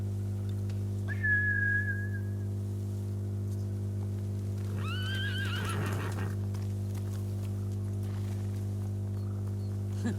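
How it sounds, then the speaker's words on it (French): Horses whinny in the video game Ghost of Tsushima, one call near the start and a second, overlapping pair of neighs midway, over a steady low game hum with faint hoofbeat-like thuds; no one talks. "Ces idiots ont fait peur aux chevaux."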